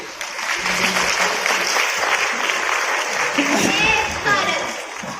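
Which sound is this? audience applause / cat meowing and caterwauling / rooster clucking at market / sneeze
audience applause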